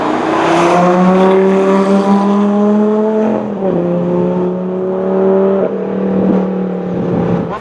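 A Lamborghini Gallardo LP-560 on a race track, its engine loud and close, pulling hard through rising revs with a brief dip partway as it shifts and keeps accelerating.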